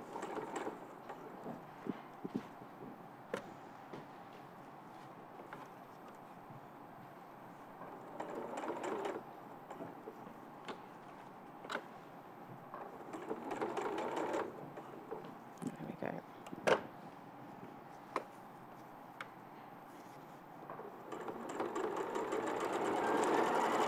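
A sewing machine stitches in a zip, running in intermittent bursts of mechanical whirring and clicking at moderate level while people talk over it.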